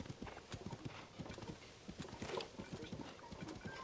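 Rapid hoofbeats clatter in a quick galloping rhythm in the video game The Legend of Zelda: Tears of the Kingdom, with a faint whinny partway through, fairly quiet overall.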